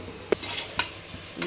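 Vegetables for mushroom biryani, with potato, mushrooms, green chillies, tomato and coriander, being stirred in a pan: a few short scraping strokes spaced apart over a faint sizzle, close and fairly quiet.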